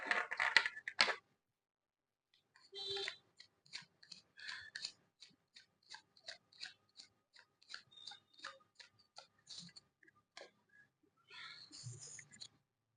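Tarot cards are shuffled close by in a quiet room: a burst of riffling, then a long run of soft, evenly spaced taps and slaps as the cards are cut and stacked, ending in another riffle.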